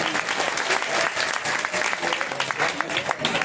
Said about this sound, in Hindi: सबको आनंद आया ना, इनकी भी एक बार जोर से ताली बजाओ।